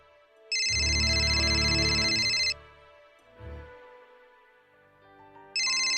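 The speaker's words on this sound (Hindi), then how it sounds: "आरती का फोन है," A mobile phone ringtone plays loudly in a household, a steady electronic tone lasting about two seconds, pausing, then starting again at the end, with faint household sound between rings.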